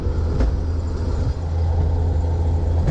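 A Jeep cruising along a turnpike on an early morning drive, with steady low engine and road rumble from inside the cabin, continuous and fairly loud throughout with no talking.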